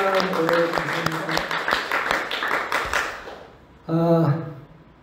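A church congregation applauds together, a dense run of overlapping claps that fades out over several seconds, followed by a short burst of speech.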